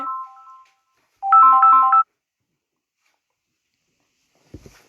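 A telephone ringtone plays a brief electronic melody twice, a short tone followed after a pause by a louder bright burst of notes, against near silence, ending with a faint thump.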